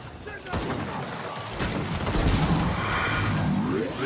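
Explosions and gunfire boom and rattle in Gears of War 4 Horde mode, a sharp blast followed by sustained loud bursts and crashes, with a voice talking over parts of it.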